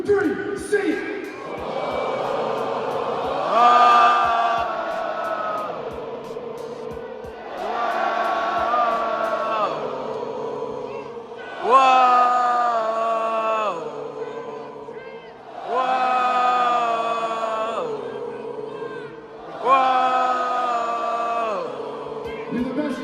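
A large live-event crowd in Sacramento sings together in loud, sustained swelling phrases, about five long sung lines each rising and fading, with cheering voices blended in.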